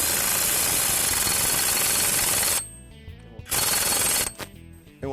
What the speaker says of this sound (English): Now I'll use my impact to tighten this down.